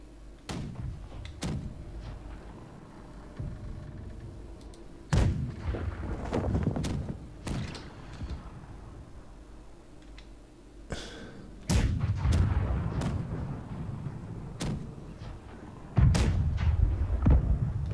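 Cannon fire from a schooner in a naval video game booms repeatedly, several heavy thudding shots at irregular intervals, some followed by rumbling, over a low background of ship ambience.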